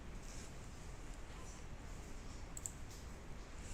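Faint computer mouse clicks, including a quick double click, come through a soft background hiss while someone works in Photoshop.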